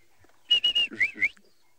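A person whistles an imitation of a southern black tit call, a quick run of three bright, clear notes followed by two rising, slurred notes, close and fairly loud against a quiet background, with no talking.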